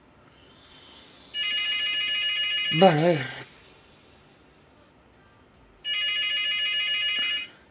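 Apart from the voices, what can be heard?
telephone ringing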